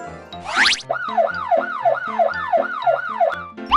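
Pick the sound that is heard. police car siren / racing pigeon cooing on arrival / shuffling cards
police car siren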